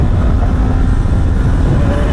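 A Honda Hornet 1000 motorcycle accelerating in fourth gear while riding in Naples, a loud, continuous low engine rumble mixed with wind noise, steady throughout.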